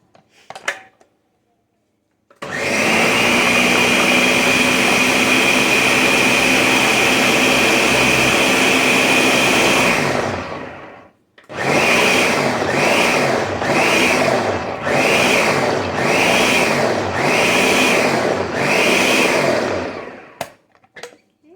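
A blender whirs through empanada filling with jalapenos, one long loud run of about eight seconds, then a string of six short pulsed bursts with brief pauses between them.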